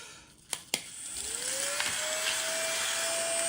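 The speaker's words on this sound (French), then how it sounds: "Un petit coup d'aspirateur, ça fait pas de mal." A vacuum cleaner cleaning up after scratch-off lottery tickets, with two sharp clicks, then a motor whining up in pitch and holding a loud, steady hum nearby.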